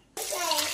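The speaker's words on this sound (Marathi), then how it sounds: "तर यामध्ये पाणी घालून घेऊया।" Water pours suddenly and steadily into a cooking pot of potatoes and peas for ragda, a brief, close, full splashing rush that starts abruptly after a moment of quiet.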